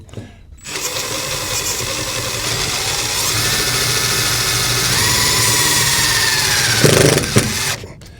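A power drill whirs continuously for several seconds, its pitch shifting slightly as it drives a screw without a pilot hole into the interior of a 1965 Ford F-100, then stops abruptly.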